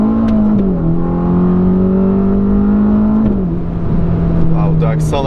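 A Ferrari Roma V8 fitted with a Supersprint X-pipe exhaust drones loudly and steadily, its pitch stepping up and down as the revs shift, heard close with a voice talking over it.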